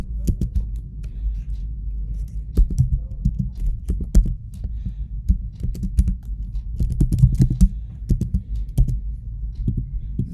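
Rapid typing on a computer keyboard while writing Python code, close and crisp key clicks in irregular bursts with short pauses, no talking.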